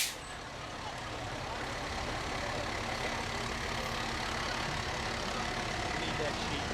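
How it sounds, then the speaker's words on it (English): North Shenango Volunteer Fire Department Engine 70 idles in the Jamestown Community Fair parade, a steady, loud, deep diesel rumble that holds throughout, with the murmur of the outdoor crowd beneath it. "the North Shenango Volunteer Fire Department and their Engine 70"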